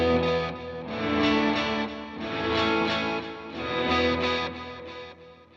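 Fully wet reverb from a guitar run through an HX Stomp with no dry signal: washed, sustained chords swell and fade in long overlapping tails, loud and smooth with no sharp attacks.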